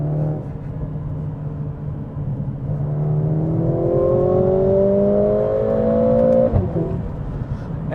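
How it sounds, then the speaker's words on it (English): A Mercedes-AMG GLA45 revving as it accelerates through the gears, engine note climbing steadily in pitch from inside the cabin, then dropping sharply on a shift near the end, loud and with no talking. "the engine noise getting pumped in actually adds on to the experience"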